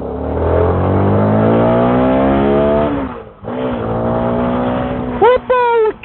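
A motorcycle on a ride through Karabük's Cevizkent and Aydınlıkevler neighbourhoods pulls hard as the throttle opens, its engine note climbing for about three seconds, dipping at a shift, then rising again before a couple of sharp revs at the end.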